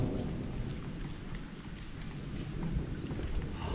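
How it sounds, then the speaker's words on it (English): Steady rain pours down around a sailing boat, a dense, continuous hiss with a low rumbling undertone, loud and even throughout without speech. "it starts raining from the heavens"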